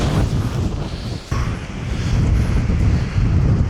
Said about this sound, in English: This wind is quite unbelievable.